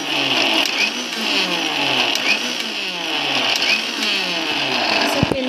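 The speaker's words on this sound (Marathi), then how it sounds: "ते पुदिनाची पावडर मी मिक्सरमधनं केली आहे" A kitchen mixer grinder running continuously while grinding dried mint leaves into powder, a loud steady high whine with a buzzing motor drone, close by, stopping with a clatter at the end.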